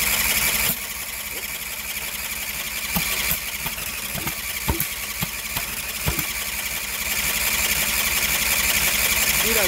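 A 20HP V-twin engine on a Sears Suburban loader cranks on a cold winter day while flooded, giving a steady mechanical churn with scattered sharp pops and sputters that never catch into running.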